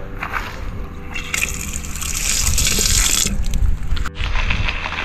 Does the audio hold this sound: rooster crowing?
no